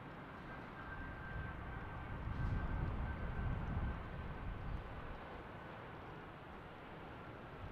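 Distant airliner landing at night, heard as a steady broad jet roar that swells briefly and then settles back to a constant rumble, with no voices.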